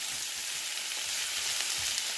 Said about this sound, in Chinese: 洋葱、蒜末，带着炒出香味，加入西红柿